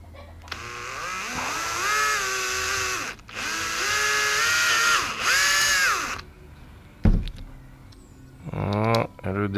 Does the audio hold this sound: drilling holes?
yes